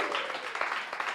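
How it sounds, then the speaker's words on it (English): A live studio audience at a judged talent show gives itself a brief burst of applause, a dense, moderately loud patter of clapping with a few sharper claps standing out. "Give yourselves a round of applause"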